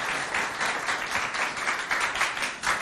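Applause for a schoolboy at a school event in Chad, a dense, steady patter of many hands clapping together that carries on evenly from start to finish with no voices over it.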